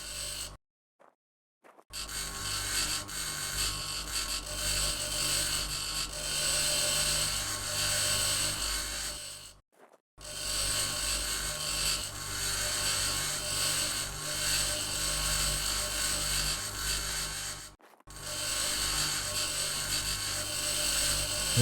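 Salvaged tanks are ground down for resources in the Occupy Mars colony-building game, a steady loud mechanical whirring drone that runs for long stretches, broken by brief silent gaps.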